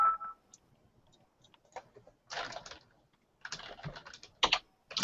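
Fast, uneven typing on a mechanical computer keyboard with keys hit hard, clustered bursts of clicks and clacks up close, quiet pauses between runs, no talk.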